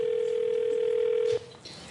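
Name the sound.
telephone dial tone, calling someone on air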